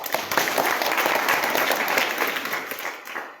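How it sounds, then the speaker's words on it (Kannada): An audience claps loudly and continuously for a few seconds during a talk, a dense wash of many hands that holds steady and then fades at the end. "ಸೊ ಜೋರ ಚಪ್ಪಾಳೆ ಹಾಕಿದ್ರೆ ಮಾತಾಡಿ."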